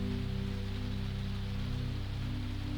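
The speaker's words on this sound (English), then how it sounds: "The rain continues its song, the wheels continue their meditation" Rain falls steadily during a train journey, a soft continuous patter over a low rumbling drone with a faint rhythmic pulse, quiet and even throughout.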